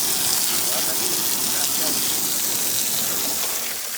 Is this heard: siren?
no